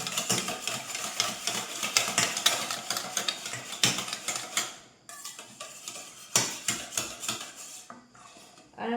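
Utensil clinks and scraping as dry ingredients are stirred into flour for naan dough, a busy run of close clattering taps with a short lull midway, no talking.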